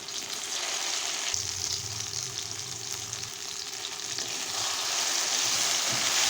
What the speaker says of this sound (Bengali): মশলাটা একটু দু মিনিট মতো ভেজে নিয়েছি